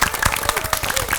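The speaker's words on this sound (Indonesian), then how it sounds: "Tepuk tangan untuk grup hijau" Studio audience applauding the winning green team on an Indonesian TVRI quiz show, a dense, steady wash of clapping over its short length with faint voices mixed in.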